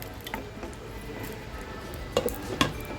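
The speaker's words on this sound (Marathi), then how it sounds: "आता ही वाटी आहे ना मी काढून घेते कारण कडवट व्हायला नको म्हणून" A small metal bowl is lifted out of a pan of smoky paneer masala after smoking. A few light clinks and knocks of metal on metal sound near the end, over a steady low kitchen hiss.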